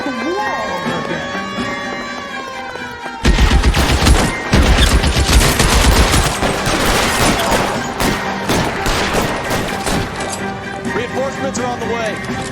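A shootout in the video game L.A. Noire erupts suddenly into loud, rapid overlapping gunfire after a quieter stretch with music, the volleys continuing densely, with game voices shouting over them.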